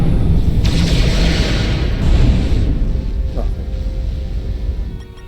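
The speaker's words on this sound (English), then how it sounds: "Fire photon torpedoes!" A starship fires photon torpedoes in a cartoon space battle, a loud booming launch with a rushing roar that swells and fades over several seconds, no voices over it.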